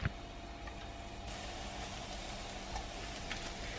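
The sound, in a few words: marinated tofu frying in a pan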